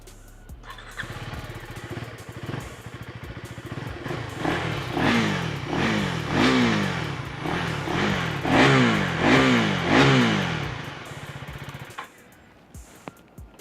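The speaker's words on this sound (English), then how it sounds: "let's just hear the exhaust note too" A 2023 KTM 390 Duke motorcycle starts and revs repeatedly, each blip of the throttle rising and falling in a steady series of close, loud exhaust bursts before the engine settles and cuts off.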